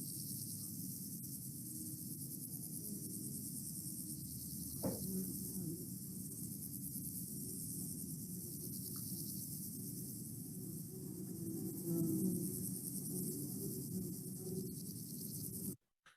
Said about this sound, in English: hopefully you should be able to hear bees and grasshoppers going crazy